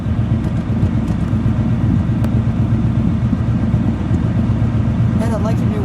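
A 1953 Mercury Monterey convertible idling, its exhaust giving a steady, smooth, low rumble up close and fairly loud throughout.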